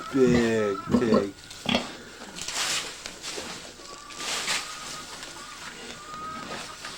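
A pregnant farm pig close to giving birth grunts and squeals in a few loud bursts near the start, then quieter rustling and faint bird chirps carry on, with some voices in the background.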